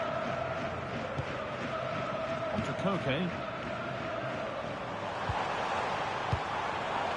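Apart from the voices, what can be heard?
stadium crowd in FC 26 video game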